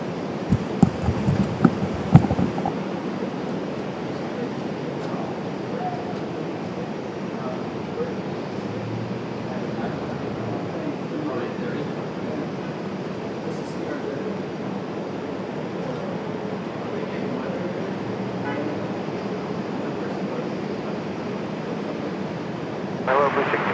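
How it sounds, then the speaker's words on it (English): Airbus A330 airliner passing at Raleigh-Durham airport, a steady broad roar of jet engines holding at a constant level throughout, with a few sharp knocks near the start. "Enjoy the A330."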